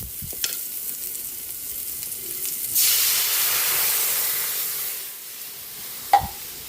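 Coconut milk heats in a pan for a Filipino ginataang isda, with fish and pepper to follow, giving off a steady broad hiss and simmer that swells midway and then fades, plus a few faint clinks.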